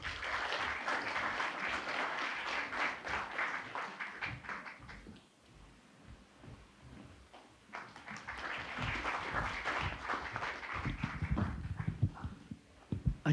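Audience applause welcoming a speaker at a regional newspaper association's community self-government award ceremony in Korea: moderately distant clapping that swells, dips briefly, then rises again with scattered final claps.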